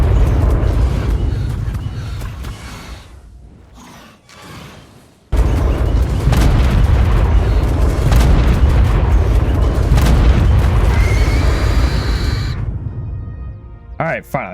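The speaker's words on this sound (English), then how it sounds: "Now what we do here is literally just sit back and once again, just cast fireballs." Fireballs cast at a blue boss with about 350,000 health in the video game ARK Descended burst in heavy booming roars, a loud continuous barrage broken by a brief lull, with someone talking over it.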